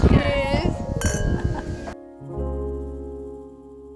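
Wine glasses touched together in a toast give a bright clink, briefly following talk and then fading under a sustained musical tone.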